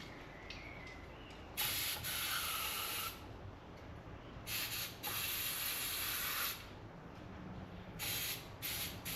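Brake cleaner is sprayed onto a Triumph Thunderbird master cylinder during a rebuild, making several close, loud hissing bursts of one to two seconds each with quieter gaps between them.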